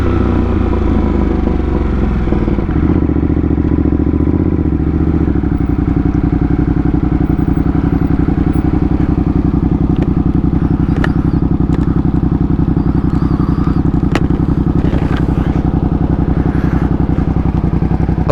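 A 2025 Ducati Panigale V2S with a loud aftermarket exhaust not meant for road use roars steadily for the whole stretch, with rumbling engine drone and a few crackles and clatters, close and with no talking.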